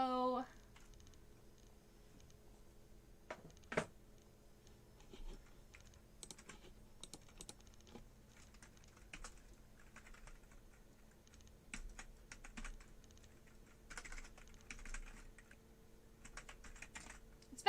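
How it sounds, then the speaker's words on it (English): Quiet, close typing on a computer keyboard: sparse, irregular clicks and short runs of keystrokes, with a few louder taps in a hushed room. "we're going to go ahead and type that in"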